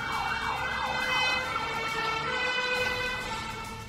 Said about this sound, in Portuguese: um morador flagra a chegada do corpo de bombeiros ainda na madrugada